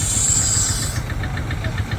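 A diesel-powered vintage engine runs at a country and vintage show, giving a steady low knocking idle with rhythmic mechanical beats. A thin high whine fades out partway through, and no one speaks.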